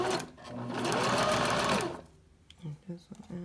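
Sewing machine stitching fabric with clear elastic, a fast close mechanical whir for about two seconds that stops abruptly, followed by someone speaking.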